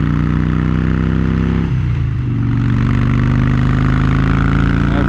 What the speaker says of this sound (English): That's basically full throttle almost.